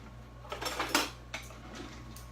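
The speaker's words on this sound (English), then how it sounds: "I'm gonna pull my tablespoon measure out." Metal kitchen utensils clink and rattle as a tablespoon measure is pulled out from among them, a few short close clatters in a quiet room.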